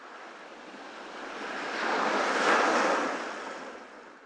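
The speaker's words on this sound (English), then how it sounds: "watching the ocean and the waves splashing against the rocks" Ocean waves splash against rocks in a single surging wash that swells to a peak midway and then recedes, a hissing, airy roar with faint wind noise.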